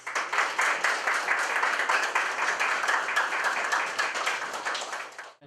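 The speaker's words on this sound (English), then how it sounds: "give yourselves a round of applause" An audience claps for participating artists at the Wayne County Museum, with dense, steady applause filling the room at close range for several seconds before it quickly dies away.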